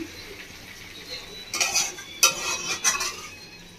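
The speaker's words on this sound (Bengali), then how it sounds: "ধনেপাতা দিয়ে 1 মিনিট মতো নাড়াচাড়া করে নিচ্ছি" A desi chicken curry with fresh coriander leaves is stirred in a pan: after a quiet start, a spoon scrapes and clatters against the metal in several short, close bursts, with a light sizzle underneath.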